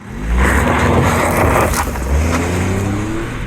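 A 2025 Suzuki Swift small hatchback pulls away for a drive, its engine note rising steadily with a low hum and road rumble, close and continuous with no talking.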